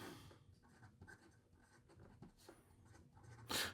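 Fountain pen from the Leonardo Mosaico line, an orange pen with a fine flex nib, writing on paper; faint close scratching strokes in short bursts, ending in a louder brush.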